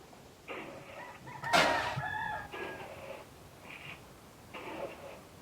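Homestead chickens at feeding time give a few separate clucks and squawks, one sharper burst standing out, heard at moderate distance with no talking.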